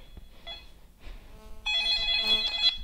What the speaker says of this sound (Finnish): Onko tuo kännykkä?